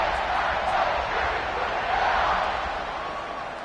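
A large stadium crowd at a college football game roars in a steady, dense wash of cheering that fills the space, loud and continuous, fading slightly toward the end.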